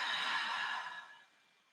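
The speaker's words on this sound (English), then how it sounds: "Let's take one deep breath in and release that Ujjayi breath." A long, breathy yoga Ujjayi exhale, a steady airy hiss that starts full and fades away over under two seconds, heard alone and close with no talking.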